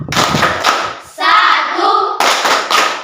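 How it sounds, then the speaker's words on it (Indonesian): Children's rhythmic clapping game for the Pancasila symbols in a classroom: sharp bursts of group hand claps open and close the passage, with a short stretch of young voices chanting in between. "Tepuk lambang Pancasila."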